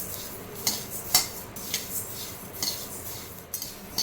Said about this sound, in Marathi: त्यामध्ये मी सगळ्यात आधी धणे भाजून घेणार आहे तर थोडे थोडे धणे घालते त्यामध्ये आणि छान असे खरपूस भाजून घेते